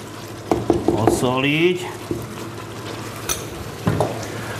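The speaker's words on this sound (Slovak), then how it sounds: "Zarestovať, osoliť" Meat and paprika sautéing in a pan for a homemade Slovak pig-slaughter dish, a loud close sizzle with several scraping stirs, a voice speaking over it briefly.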